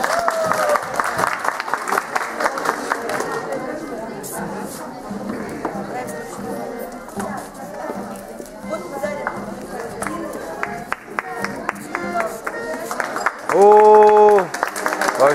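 Audience applause at a Finno-Ugric festival in Tyumen, a crowd clapping steadily with a dense, sustained patter that swells near the end, with voices audible through it.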